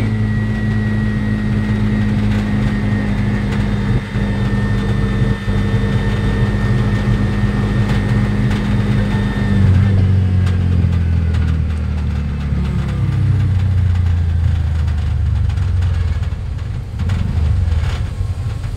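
Cars and trucks idle and creep in traffic, a continuous near engine drone with a steady low hum and a faint high whine, shifting pitch as a heavier engine rolls past midway through.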